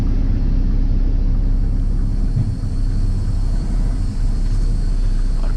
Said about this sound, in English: Now we're just gonna pull forward just far enough to get the converter gear out from under that rear trailer.